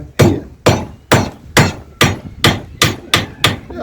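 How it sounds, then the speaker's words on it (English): Nine evenly spaced hammer strikes ring out close and loud as a blacksmith hammers hot steel to form a nail head, each blow a sharp thwack with a short ringing tail, no voices. "Take my hammer, hit the nail on the head."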